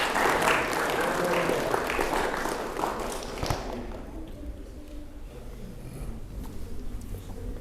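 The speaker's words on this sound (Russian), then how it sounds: "Похлопаем." Applause from a gathered crowd at a scholars' assembly in Novolak, Dagestan, a dense burst of clapping that is loud at first, then thins out and trails off into murmuring voices and light taps.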